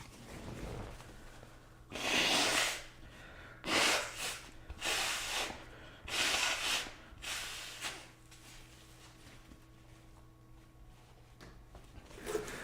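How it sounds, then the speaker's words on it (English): Someone blows their nose in several forceful bursts, about five loud nasal blasts separated by quiet breathing, followed by softer sniffs and faint background hum. "I gotta blow my nose."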